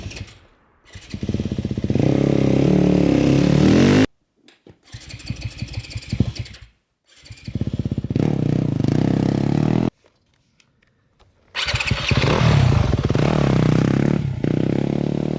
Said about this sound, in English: Something that needs to be addressed is this bike is very slow to start,